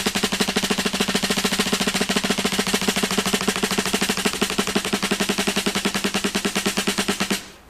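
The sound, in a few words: closed single stroke roll on drums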